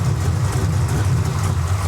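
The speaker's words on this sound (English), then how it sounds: "I don't know if you can hear it, but the car started to stumble." A car engine running during a test drive after a repair, with a steady, loud low rumble throughout and a slight unevenness in its drone, with no talk.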